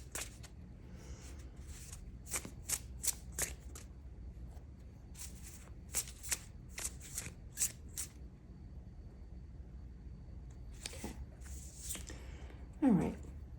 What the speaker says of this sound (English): I'm going to pull from another deck and just get another row of cards here